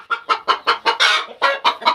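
A hen clucks close by in a quick, regular string of about nine short, throaty pulses, loud and alone.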